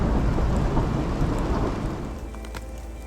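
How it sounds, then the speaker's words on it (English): Night thunderstorm in New Zealand's South Island: a steady wash of rain with a deep, rolling thunder rumble that fades and settles into continuous rainfall, loud and close, with no voices. "enjoyed the night's thunder and lightning show"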